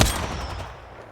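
A single loud Triple Take sniper rifle shot in Apex Legends, a sharp close blast at the start that rings out and decays over about a second, with no talk.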